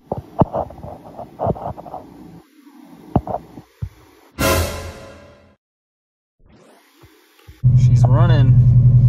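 A turbocharged Subaru STI Forester engine catches and settles into a loud, steady idle close by, a sharp burst of revving before a pause and then a strong continuous hum.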